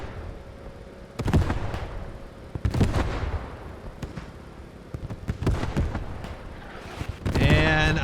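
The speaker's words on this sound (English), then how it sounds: "German Stahlhelm goes flying as he jumps in the trench right as the grenade cooks" Grenade blast in the WWII shooter Squad 44 as a German soldier in a Stahlhelm jumps into a trench: several loud, sharp booms with ringing decay over about eight seconds, the last heavy burst rumbling near the end.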